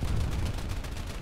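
A Browning .50 cal machine gun firing in the video game War Thunder, a continuous rapid heavy burst, loud and close with no other sound over it.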